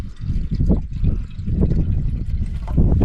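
Water poured out of a bottle outdoors on a wild-camping trip on Kinder Scout, a steady close trickling and glugging stream lasting about three seconds without a break.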